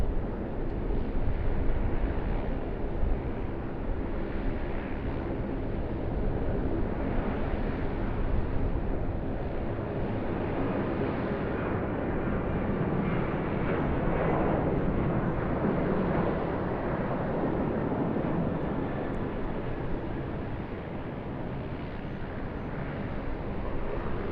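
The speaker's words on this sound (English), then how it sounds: "Another aircraft in the back coming in." A jet airliner approaches Sydney Airport to land, its steady broadband roar loud and continuous throughout, with a low rumble and faint whining tones, and no talk over it.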